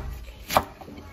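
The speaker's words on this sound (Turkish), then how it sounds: "Böyle bunları büyük büyük doğrayacağız." Single knife chop through salad greens and vegetables on a board, one short crisp strike amid faint kitchen background noise.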